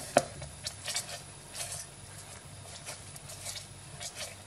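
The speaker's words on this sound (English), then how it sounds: "I'm just gonna try to mix it. So again, no lumps in here. Try to properly mix it." Double cream is stirred with cardamom powder in a bowl, light repeated clinks and scrapes of a spoon against the dish, close and soft, with one sharper knock at the start.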